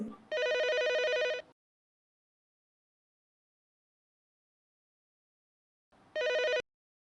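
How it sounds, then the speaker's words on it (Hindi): A telephone rings with a bright electronic trill for about a second, falls silent for several seconds, then rings briefly again. "रुको रुको, सीमा सीमा जरा फोन देखना"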